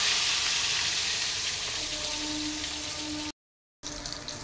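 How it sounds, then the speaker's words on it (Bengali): Potatoes and pointed gourd (potol) fry in hot oil in a home kitchen, a close, continuous crackling sizzle that cuts out briefly near the end before resuming. "আলুগুলো একটু একটু লাল লাল হয়ে গেছে, বেশি বেশি পটলগুলো ভেজে নিই"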